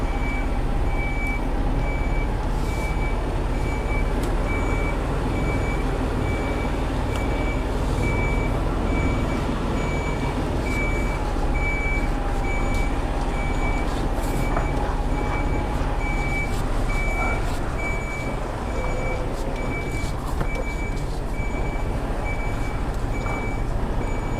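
A truck's reversing alarm beeps steadily in a regular repeating pattern throughout a blind reverse in Swansea, over a constant loud engine rumble.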